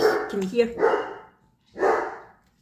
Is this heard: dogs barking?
yes